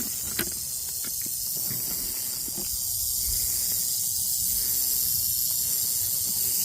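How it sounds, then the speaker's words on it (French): A rattlesnake's dry, continuous buzzing rattle on the Appalachian Trail, heard faint to moderate under steady outdoor hiss, with occasional footsteps and rustling nearby and no voices. "Je me suis fait attaquer par des serpents sonnettes"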